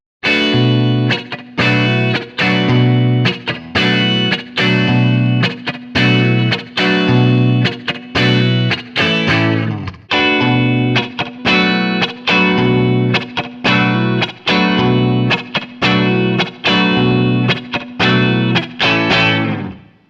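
Electric guitar played through a ToneX pedal amp profile of a different amp than a Marshall: loud distorted rhythm chords strummed in a steady chopped pattern with short gaps between bursts, dry and upfront, with no voices.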